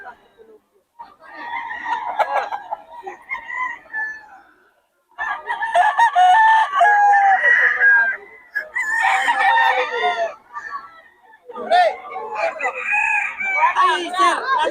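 Several roosters crow in repeated, overlapping bursts, loud and close, with brief pauses between calls and some clucking mixed in.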